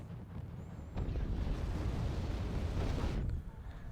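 Artillery fire aimed at a BRDM armored car in the Wargame strategy game, a deep, broad rumbling barrage that swells suddenly and holds for a couple of seconds before easing off, loud and dense, with no speech.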